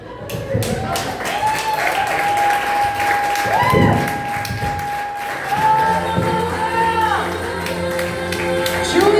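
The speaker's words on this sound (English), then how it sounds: "Keep clapping for her." Applause and clapping from a comedy club audience for stand-up comedian Julia LeBrell, a dense steady wash filling the whole stretch, with cheers and a few voices mixed in and a sustained tone running through the middle.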